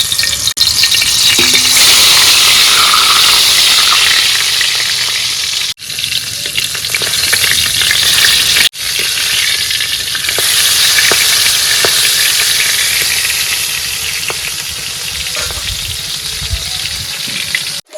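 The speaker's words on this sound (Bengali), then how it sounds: "গরম হয়ে গেছে এবার চাবনে চিংড়ি দিয়ে দিলাম" Shrimp sizzle and fry loudly in a hot pan with turmeric, a steady close crackle lasting throughout, broken by two brief dips and light stirring scrapes.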